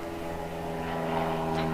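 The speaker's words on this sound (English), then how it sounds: "it's another plane" A plane passes overhead near a workshop, heard as a steady droning hum with layered engine tones, moderately loud and unbroken, with no one speaking.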